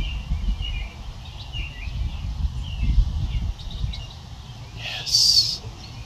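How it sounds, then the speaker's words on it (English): Faint birds chirp intermittently in the background outdoors while a person talks, with a brief sharper call near the end. "You hear all the birds chirping."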